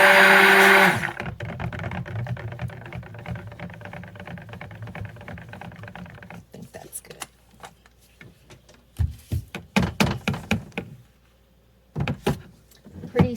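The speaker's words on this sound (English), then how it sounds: "The stick blender, oh, it really is powerful." A stick blender whirs loudly for about a second while mixing soap, then cuts out, followed by scattered knocks and clatter.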